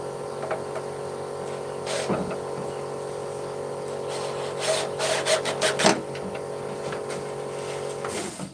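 Sanding a wooden chair frame by hand, the abrasive rubbing against wood in soft bursts, busier and louder around the middle, over a steady background hum.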